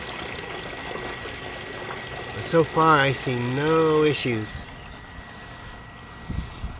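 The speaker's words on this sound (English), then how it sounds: "the way the water sounds coming into the downspout drain." Rainwater flowing into an underground yard downspout drain makes a faint, steady trickling wash that sits under a man's speech.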